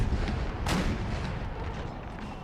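Heavy guard artillery, large 12-pounder cannons in a Napoleon Total War battle at Austerlitz, boom in a dense, rumbling barrage, with one sharp loud report standing out amid continuous distant gunfire.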